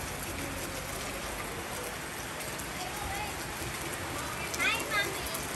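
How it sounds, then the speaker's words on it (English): Steady rain falls in a dense, even hiss that fills the whole clip, while people, children among them, talk faintly beneath it. "It's raining, raining."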